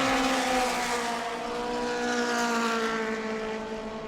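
A race car that is misfiring badly limps slowly down the back straightaway at a Florida short track, its rough droning engine note rising in pitch loud and near, with no talking.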